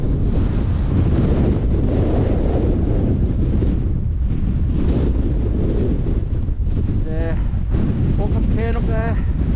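Strong, steady wind roars across the microphone on a frozen hilltop above the College Valley near the Cheviot, a constant heavy buffeting that fills the whole stretch, with a brief voice near the end.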